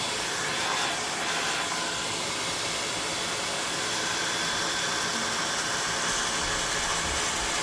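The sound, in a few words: very old hair dryer running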